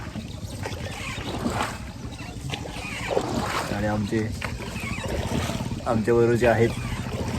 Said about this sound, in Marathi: होडी